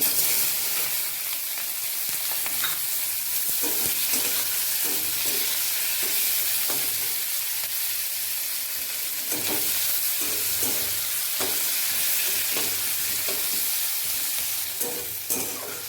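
Chopped onion frying in oil with bay leaves, a steady close sizzle throughout with repeated spatula stirring knocks scattered across the pan.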